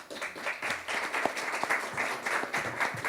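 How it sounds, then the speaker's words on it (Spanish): A seated panel audience at an art exhibition conversation applauds a speaker with steady, moderately close clapping from many hands, continuous and fairly even throughout, with no talking over it. "Un aplauso, por favor, para ella."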